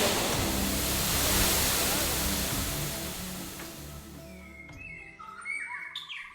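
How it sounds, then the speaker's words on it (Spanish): Loud, rushing water of a waterfall at Las Gemelas, Florián, Colombia roars nearby, then fades away, leaving birds chirping and trilling clearly against a quieter background. "el agua pega fuerte aquí ya en la segunda cascada de Las Gemelas"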